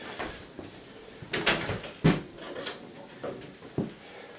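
The back door of a Milsig M17 paintball marker is worked open, giving a quiet series of sharp plastic clicks and snaps spaced irregularly, close up and without speech.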